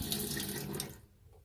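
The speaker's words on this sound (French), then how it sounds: "c'est un petit robinet pas cher que j'ai acheté sur H2R" Water gushes from a small, inexpensive faucet fitted in a homemade Fiat Ducato camper van conversion, a steady close splash that cuts off after about a second, leaving a quiet tail.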